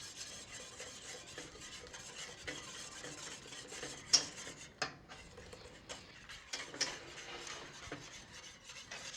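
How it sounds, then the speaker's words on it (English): A whisk stirs tempered chocolate mixture into milk in a pot, giving a soft continuous scraping and swishing with occasional sharper metallic clicks against the pan, fairly quiet and close. "And then we'll add this to the milk. Again, whisking it and slowly."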